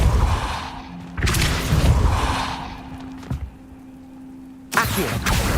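Depulso spell effects in Hogwarts Legacy: two forceful whooshing thumps a few seconds apart, each a loud broadband burst over a steady low ambient hum.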